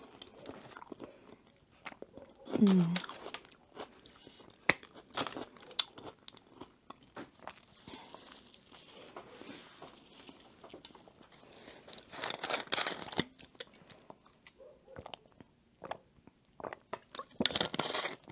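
Chewing on grilled shrimp with lemon sauce, close and fairly quiet, with soft bites and moist mouth sounds that come in scattered bursts and pauses.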